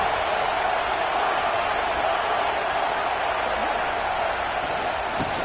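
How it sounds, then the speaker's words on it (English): In the Madden 25 American football game, a stadium crowd cheers as a dense, continuous roar that holds at a steady, loud level throughout. "how nice is it to have the home crowd going absolutely bananas?"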